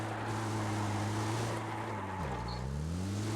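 A vehicle drives in the game BGMI with a steady low engine hum whose pitch dips and rises again near the end, continuous and alone with no talk.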